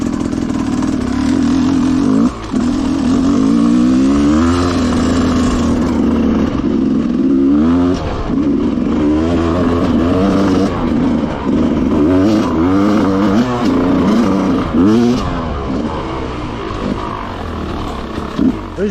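An enduro motorcycle engine runs loud and close, revving repeatedly in rising and falling surges over a steady, rough drone.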